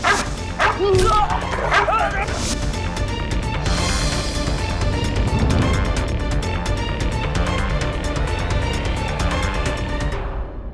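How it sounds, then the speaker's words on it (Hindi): A dog barks and whimpers in short yipping bursts during a courtroom drama scene, mixed with dramatic background music and voices speaking throughout. "एक कुत्ता।"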